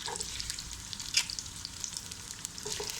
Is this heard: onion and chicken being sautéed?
yes